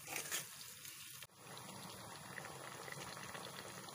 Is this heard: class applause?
no